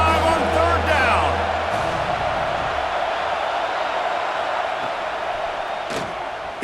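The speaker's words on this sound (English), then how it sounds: "The Buckeye crowd alive on third down." Ohio State Buckeye crowd roaring in a college football video game, a loud, dense stadium cheer that swells on third down and holds steady, with commentators talking over it at the start.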